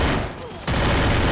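Rapid bursts of gunfire in a competitive online shooter video game, loud close crackling shots that drop out briefly then resume in a dense volley.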